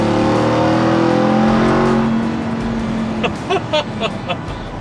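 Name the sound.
supercharged pickup truck engine revving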